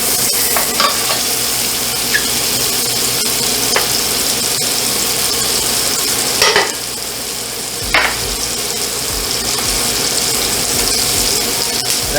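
Gnocchi fry in a butter pan with a constant close sizzle and hiss, and occasional clatters and stirring knocks break in, with no talk.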